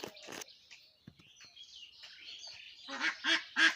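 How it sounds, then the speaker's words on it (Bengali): Domestic ducks quack nearby in a few scattered calls, ending in a run of three louder, rhythmic quacks. There are soft rustles and quiet background noise between the calls. "এই যে আমার হাঁস মুরগিগুলা"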